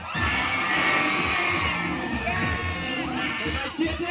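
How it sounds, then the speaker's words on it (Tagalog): A crowd at a political rally in Manila roars, shouts and cheers for the mayor in a dense, loud, sustained wall of voices, with a few higher yells rising above it. "Malakas na sigawan para kay Yorme."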